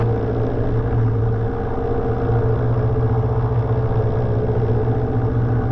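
Light piston aircraft engine held at about 1700 RPM for a magneto check, a steady loud drone with strong low harmonic hum throughout, close up and unbroken, no talking.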